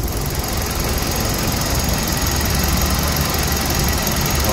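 A 2010 automatic car with a 1.6 engine idling steadily and evenly, a smooth continuous hum recorded close by with no voices.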